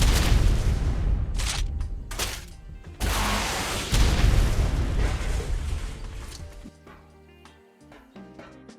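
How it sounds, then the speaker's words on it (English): Heavy rocket blasts hit a small metal 1x1 base during a raid in a survival PvP game, several loud booms in quick succession over about six seconds, then a fading rumble and quieter game sounds. "Do I use all 3 of my rockets to try and break in?"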